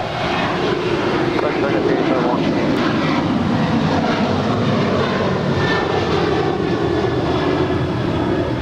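A departing airliner at Los Angeles LAX, in a hybrid Sun Country livery and bound for the Hawaiian Islands, roars in a steady, broad engine rush that stays loud and near throughout, with a faint voice beneath.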